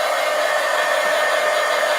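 A hair dryer blows steadily and loudly to dry wet paint on a collage poster, a constant close whir with no talk over it.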